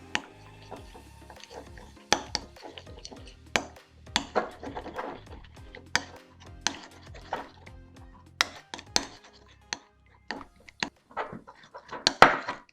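Soy sauce being mixed in a bowl for a Japanese-style duck dish: a utensil clinks and scrapes against the bowl in irregular, close bursts with quiet gaps between.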